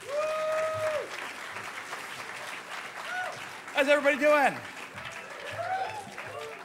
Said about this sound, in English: Darko, round of applause